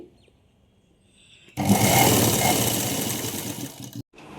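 A sewing machine runs in one steady burst of rapid stitching, joining a frock's lining to its main cloth, starting abruptly after a quiet moment and cutting off near the end.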